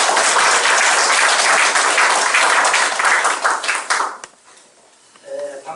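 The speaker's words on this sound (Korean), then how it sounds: "큰 박수로 환영해 주시기 바랍니다" Loud, sustained applause from an audience at a national park hiking-school lecture, welcoming a guest speaker, a professor, to the stage; dense clapping for about four seconds, then tapering off into scattered claps and quiet.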